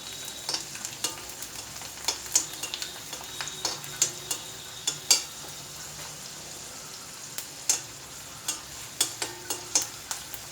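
Garlic chutney ingredients sauté in sesame oil, giving a steady close sizzle broken by repeated sharp clicks and scrapes of a spoon against the pan.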